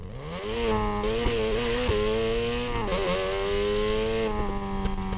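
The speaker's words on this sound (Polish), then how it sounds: "I to jest dźwięk wankla." A Wankel rotary engine in Need for Speed Payback, on a quickly tuned car, holds a steady buzzing rev with small dips and surges, loud and alone throughout.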